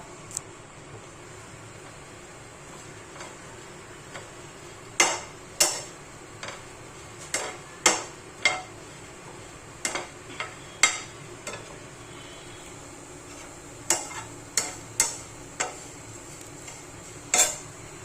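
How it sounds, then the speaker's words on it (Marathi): Dried shrimp (jawla) dry-roasts in a pan without water, stirred so that it makes irregular sharp clicks and taps against the metal over a low background hiss. "हलकासा भाजून घ्यायचा आहे जवळा"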